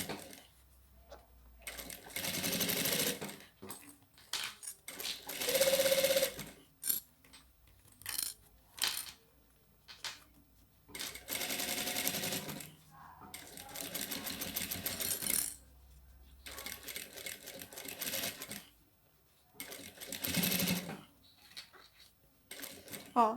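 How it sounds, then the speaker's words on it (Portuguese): A sewing machine stitching the end of bias tape on a small handbag, several short close bursts of rapid mechanical whirring separated by quiet pauses and handling sounds. "vou bater uma costurinha aqui na ponta do viés"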